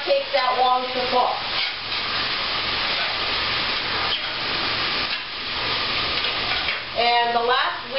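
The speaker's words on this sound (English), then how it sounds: "we're just going to add to our pan with our veggies. Saute it quick" Squid rings sauteing in a pan with vegetables, a steady loud sizzle and hiss that carries throughout, with a voice briefly heard near the start and end.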